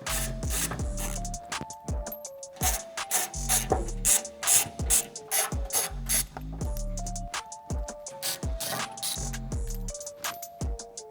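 A hand ratchet backs out the front bumper bolts on a Tesla Cybertruck, making quick bursts of close, crisp clicking with short pauses between turns. A steady tonal hum runs underneath, and no one speaks.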